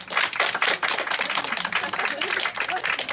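Applause from relatives, diplomats and well-wishers welcoming returning Ukrainian soldiers, a dense continuous crowd of clapping hands at steady loudness with voices mixed in.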